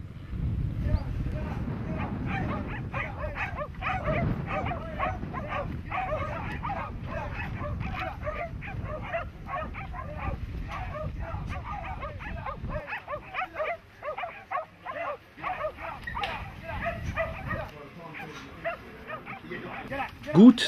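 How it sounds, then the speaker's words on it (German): Working sheepdogs barking in quick, repeated yips while driving Merino sheep out of pens, up a ramp and into a tin shed in Queensland, heard under a narrating voice that talks over most of it. "Gut dressierte Hunde treiben die Schafe aus dem Gehegen die Rampe hoch und in den Blechschuppen."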